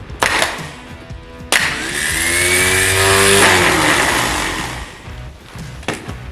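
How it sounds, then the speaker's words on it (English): Starter motor from a 1975 Ford Mustang II spinning on a bench test, a loud sharp engagement then a rising and falling whir that winds down after a few seconds, with clunks at the start and end. "if this pops out and spins and you hear it whir, then your starter is good"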